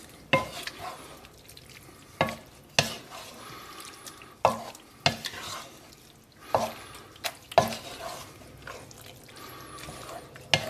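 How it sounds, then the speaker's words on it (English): Pasta al tonno is stirred in its sauce in a pan, with sharp scraping clanks of a utensil every second or so over a soft, quiet sizzle. "I'm basically going to stir this until the sauce and the pasta are well incorporated"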